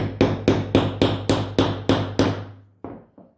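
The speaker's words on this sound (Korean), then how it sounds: "가운데 이렇게 들어가게 놓고 꽉 누른 다음에 망치로" A hammer strikes a leather snap fastener onto a handmade leather card wallet, about eight sharp, evenly spaced blows, loud and close, ending with two softer taps.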